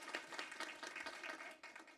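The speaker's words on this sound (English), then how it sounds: "Give her a round of applause, please" Quiet, dense round of applause from a small audience at a school board meeting honoring a student's parents, steady rapid clapping throughout.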